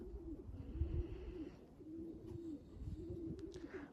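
Pigeons in a breeding loft coo steadily, a low throaty warble repeating in soft rounds, fairly close, with faint rustling and a few light ticks behind.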